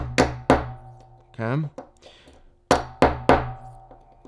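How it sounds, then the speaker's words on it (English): A hammer taps a pin ejector to drive pins out of an SFIC lock core: sharp metallic strikes in pairs and a triple, close and loud, with a brief spoken word between them. "let the hammer and the ejector do the work here"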